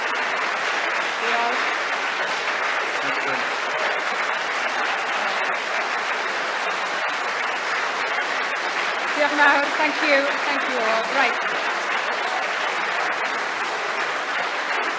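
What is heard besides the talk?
audience applause at a Labour leadership hustings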